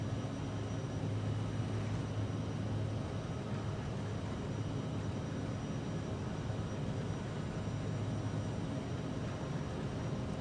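Airliner engines build a steady, broad roar during the takeoff roll in a flight simulator. The noise holds a constant level without a break and has no speech over it.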